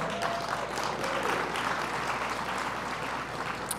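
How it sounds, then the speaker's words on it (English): A steady wash of audience applause for a deputy city manager at a city business appreciation event, even and unbroken with no voices on top. "With a big round of applause,"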